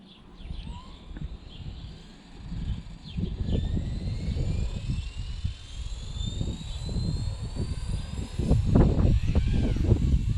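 Blade 235CP collective-pitch RC helicopter flying outdoors in gusty wind, a steady whining rotor and motor drone with pitch sweeps as it maneuvers, fairly close, with wind rumble underneath.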